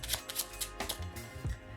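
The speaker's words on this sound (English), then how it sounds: "I'm gonna go ahead and shuffle it somewhere right inside the center of the deck" A deck of playing cards is shuffled during a card trick, giving a quick series of crisp riffling snaps and soft card clicks, close and quiet, with no talking.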